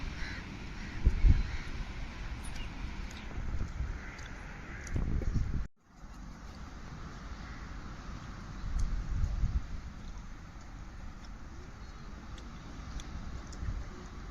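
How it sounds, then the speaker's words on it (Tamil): Ducklings quack and honk in a loose outdoor flock, a busy chorus of calls with a brief break partway through, moderately close. "இப்போ எங்கள் வாத்து பிள்ளைகள் வராங்க"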